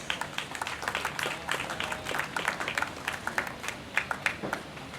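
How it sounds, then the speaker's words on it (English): A crowd gives steady, moderately faint applause for the board chairman of the Otumfuo Osei Tutu II Foundation at a museum tour event in Manhyia, the clapping continuous throughout. "A round of applause, please."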